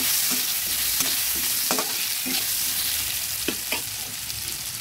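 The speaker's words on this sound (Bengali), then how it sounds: "নুন হলুদ দিয়ে একটু ভেজে নেব।" Food fries in a pan with salt and turmeric, giving a steady close sizzle. A spatula stirs and scrapes through it in a few soft, irregular strokes.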